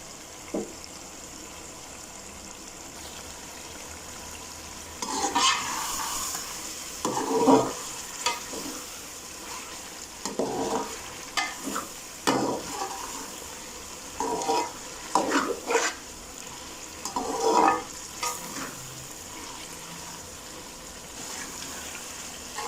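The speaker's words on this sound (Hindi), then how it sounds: "अभी 3 से 4 मिनट और इसको अच्छे से भून लेंगे ताकि जो इसमें थोड़ा बहुत पानी रह गया वो भी खुश्क हो जाए।" Eggplant and potato curry, aloo baingan masala, is stirred and fried in a pan, a steady sizzle under repeated scraping strokes of a spoon against the pan, close and fairly loud, with no talking.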